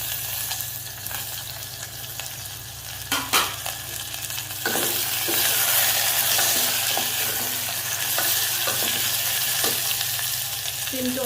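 Onions and potatoes fry in a pan with a steady sizzle that grows louder midway as the potatoes go in, punctuated by a few sharp clinks of a stirring spoon.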